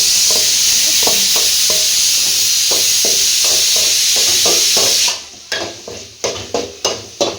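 Curry leaves and coriander leaves sizzle in hot oil for sambar, a steady bright frying hiss that stops after about five seconds, followed by a run of sharp spoon-against-pan stirring knocks.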